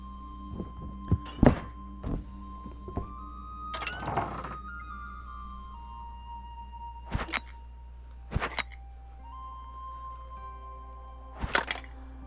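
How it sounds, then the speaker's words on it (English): Loading a cannon in the sailing video game Sail: a series of hollow wooden thunks and knocks, some single and some in quick clusters, spaced over several seconds against a low steady hum and a faint tonal drone. "Load cannon."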